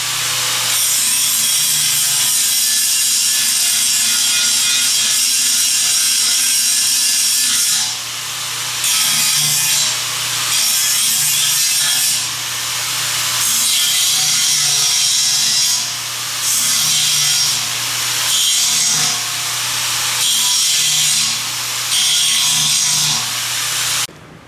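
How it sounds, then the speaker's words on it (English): Grinding on a cracked aluminum intercooler from an RX-7, a loud, sustained abrasive whine that runs for over twenty seconds and breaks into short rhythmic strokes partway through. "Okay, so I pretty much have this thing grinded."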